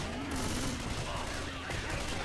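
Dense bursts of gunfire rattle continuously during a chaotic Left 4 Dead 2 round, layered over a busy, noisy game mix at low overall volume.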